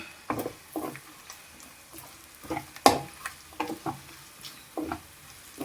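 Spice powder is stirred into a chicken fry with onions in a pan, a quiet sizzle under repeated scraping strokes of a spoon, each stroke a short rasp with a sharper knock midway.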